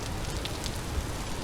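Steady rain in the survival game Vintage Story, a dense even hiss of drops on surfaces with a few brighter ticks, continuous and fairly loud with no talk.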